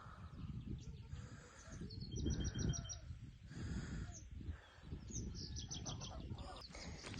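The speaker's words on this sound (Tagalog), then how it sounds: "Geese ba yun?" Geese call near a house outdoors: faint, repeated honking cries come in short clusters over a low background rumble.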